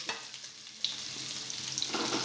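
Bottle gourd muthiya pieces added to hot oil with popping mustard and sesame seeds, a close sizzle with scattered crackles and a stirring scrape, no voices.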